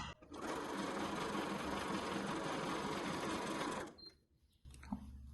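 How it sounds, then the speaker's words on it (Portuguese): A sewing machine stitches the lining along the edge of a fabric clutch bag, whirring steadily and quickly for several seconds before stopping abruptly. Quiet handling noises follow. "E aqui eu vou fazer uma costurinha só pra prender mesmo esse forro bem na beiradinha."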